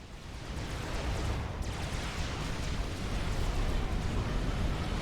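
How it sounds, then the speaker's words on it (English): Big explosions and heavy battle rumble from a Supreme Commander real-time strategy match, a dense continuous roar of booms that stays loud throughout with no pause. "Oh, I see big explosions. Or should I say I hear a big explosions."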